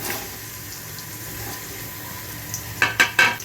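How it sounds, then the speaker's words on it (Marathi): Onion and green chili frying in nearly a bowl of hot oil give a steady, soft sizzle, with a few sharp louder bursts of stirring or splattering near the end. "तेल चांगलं गरम झालं की हा कांदा आणि मिरची मस्त तेलावरती परतून घ्यायचा"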